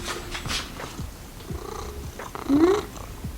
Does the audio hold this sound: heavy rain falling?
no